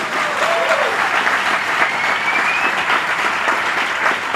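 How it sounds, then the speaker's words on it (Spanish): Audience applause at a live talk show recording, steady dense clapping sustained throughout at close range with a few faint whistles. "Otro aplauso"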